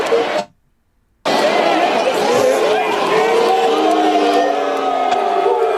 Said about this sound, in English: And they're booing him.